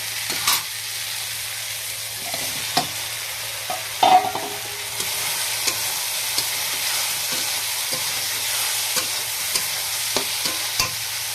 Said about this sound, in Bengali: এখন আমি এর মধ্যে দিয়ে দেবো ভেজে রাখা আলু আর হচ্ছে কচুটা